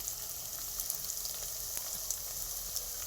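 Spice masala with ginger-garlic paste sautéing in a pan, heard as a continuous soft sizzle with faint stirring scrapes and small crackles, close and without talk.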